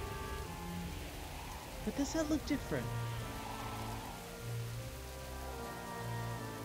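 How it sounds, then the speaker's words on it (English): Steady rain patters softly throughout in World of Warcraft at the ruins of Gilneas, with someone briefly speaking over it partway through. "It's still raining."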